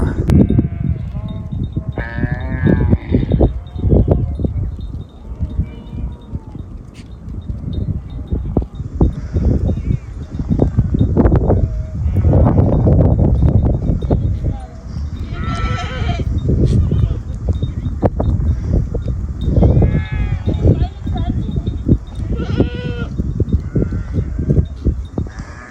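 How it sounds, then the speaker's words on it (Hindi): Goats of Bakarwal herders bleating as the flock passes along a mountain track in Neelum Valley, Kashmir, scattered bleats over constant hooves, wind and rustle, with someone talking throughout. "बकरियां इनकी जा रही हैं आगे की तरफ"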